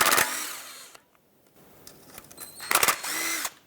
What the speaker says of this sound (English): I'm just going to go around and remove all the bolts for this oil pan